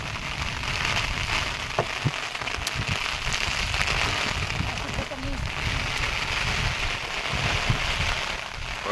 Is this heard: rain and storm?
yes